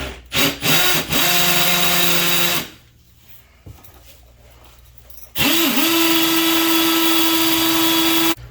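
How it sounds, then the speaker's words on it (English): A power drill whines loudly at close range while boring a 3-inch hole into brick, stops for a few seconds of quieter background, then starts up again and runs steadily to the end. "I need to drill a 3-inch hole in this brick"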